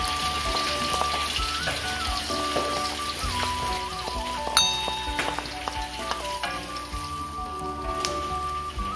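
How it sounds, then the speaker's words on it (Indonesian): Shallots, garlic and onion sautéing in a pan for a stir-fried papaya flower dish, a steady dense sizzle like rain running throughout with scattered clinks and scrapes of stirring. "bumbu tumis semua ini, bawang merah, bawang putihnya, tumis sampai matang"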